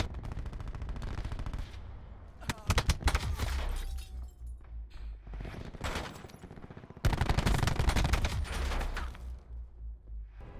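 Video game gunfire with rapid automatic bursts and sharp single shots, loud and close, with glassy breaking crashes mixed in and pauses between volleys.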